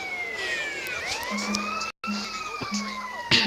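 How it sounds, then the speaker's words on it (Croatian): A wailing police siren in GTA San Andreas rises and falls repeatedly over engine noise during a chase, with a brief dropout midway and a low repeated horn-like tone. "kao što vidite ganjava policija"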